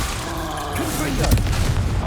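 A Confringo fire spell bursts in Hogwarts Legacy combat, a booming blast about a second in, set against a dense, noisy layer of battle sound and a shouted voice.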